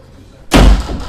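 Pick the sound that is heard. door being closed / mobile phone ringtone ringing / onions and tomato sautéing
door being closed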